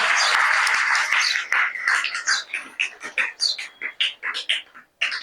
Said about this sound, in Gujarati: જોરદાર તાળીઓથી આપણે ફરી વધાવીએ.